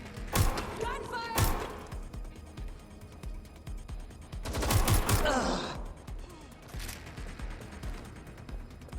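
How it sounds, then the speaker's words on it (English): Gunfire in the video game Watch Dogs: Legion, with loud bursts of shots in separate volleys, a sharp cluster near the start and a heavier flurry midway, set against mechanical clatter and background game noise. "Gunfire!"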